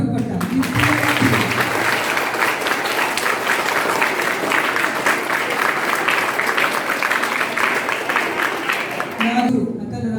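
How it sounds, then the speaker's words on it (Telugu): Schoolchildren at a high school book review event clap together in sustained, loud, even applause that fills nearly the whole stretch before fading out. "పిడుగులైతే చప్పట్లు కొట్టాలి."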